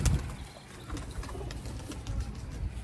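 Sialkoti pigeons coo softly in a loft, low throaty murmurs repeating at a close but quiet level amid faint background rustle.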